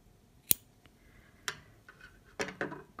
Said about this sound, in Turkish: kırmızı ipimi de kestim